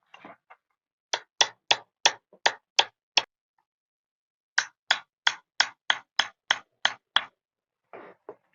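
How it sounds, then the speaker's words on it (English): Sharp metallic hammer strikes on a brass punch during PSA Dagger pistol assembly come in two quick rhythmic bursts of about seven and nine blows, close and loud, with short pauses between. "before we start to hammer, and that we use a brass or aluminum punch to get it in there."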